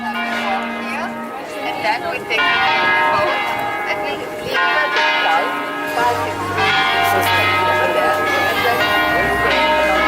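Church bells ringing in Porto Venere on the Cinque Terre coast, steady metallic peals carrying through an outdoor scene with people talking over them throughout.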